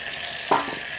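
A stick of butter with a couple of cloves of garlic hitting a hot pan for a mop sauce, a single short sizzle burst rising midway over quiet background hiss.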